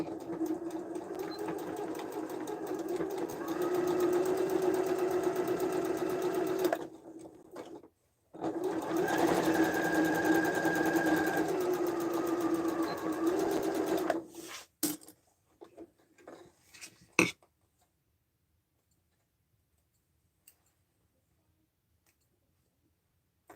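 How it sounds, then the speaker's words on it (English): A sewing machine stitches a half-inch seam across the corner of a tote bag in two steady runs of rapid mechanical whirring, separated by a brief pause, then a few clicks before silence. "we're going to sew along this at 1/2 inch, and that's how you get your corner."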